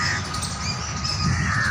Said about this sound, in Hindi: जो सारे पक्षी वगैरह हैं इस पेड़ के, वो सब परेशान हो गए हैं, चिल्लाने लगे हैं